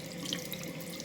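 A bathroom sink tap runs steadily, a soft continuous hiss of flowing water heard close and alone.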